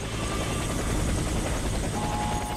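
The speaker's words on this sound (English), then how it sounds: "Move out of the helicopter." A helicopter from the video game Warface drones steadily and loudly, with a dense, continuous rotor-and-engine roar and no voices.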